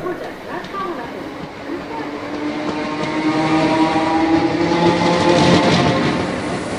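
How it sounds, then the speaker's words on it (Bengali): A train rumbles along steadily with rhythmic clatter, growing slightly louder, while people talk faintly in the background. "ট্রেন ছুটছে।"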